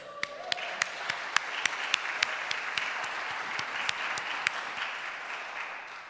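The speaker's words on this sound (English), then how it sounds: "Let's clap for her." Applause at a poetry festival for a grant writer, steady dense clapping from a crowd with a few sharper individual claps standing out, sustained for several seconds.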